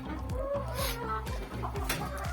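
Chickens cluck and murmur close by in a steady stream of short calls, over a low rhythmic background thumping.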